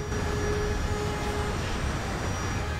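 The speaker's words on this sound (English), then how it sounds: "Oh wait, I don't know how to fly an airplane." An airplane in the Resident Evil 6 video game drones steadily at close range. The engine hum is continuous and even, with no voices.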